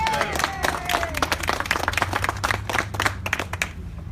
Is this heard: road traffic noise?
no